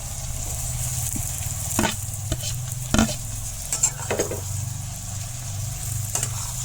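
Tomato, potato and garlic stirred and frying in ghee, a steady close sizzle with scraping spatula strokes and occasional clacks against the pan.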